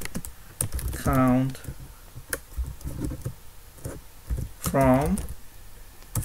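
Computer keyboard typed on as an SQL statement is entered in SQL Developer, a scatter of sharp close key clicks in quick bursts under intermittent talk.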